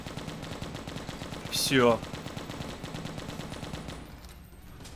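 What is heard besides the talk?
machine gun firing in video game Left to Survive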